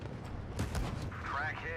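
Tank cannon fire and shell impacts in World of Tanks Blitz, a heavy boom followed by a rumbling hit, under a voice talking throughout.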